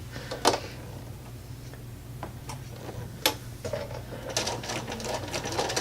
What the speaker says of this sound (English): So what I'm going to do is sew just on the outside of the line I already sewed.